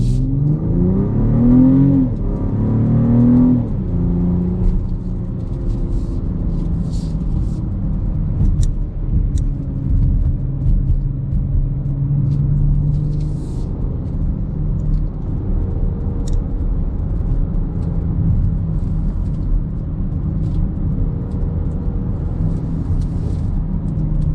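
A 2025 BMW X5 xDrive40i SUV drives on a road, a continuous low engine and road rumble heard from inside with a brief rise early on, without talk.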